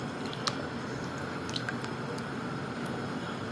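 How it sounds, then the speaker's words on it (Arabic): Cauliflower is lifted into cold water in a kitchen pot, giving soft wet squishes and scattered drips over a steady watery background, close and fairly quiet. "هنطلع القرنبيط على ميه ساقعه عشان خاطر يوقف السوا اهو"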